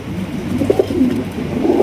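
Healthy pet pigeons at a breeder's loft coo in soft, repeated throaty bursts close by, a low burbling murmur rising and falling over a quiet background.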